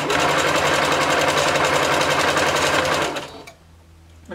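A sewing machine stitches along the fabric edge of a bodysuit in one loud, close, continuous run that stops sharply after about three seconds, followed by faint handling noise.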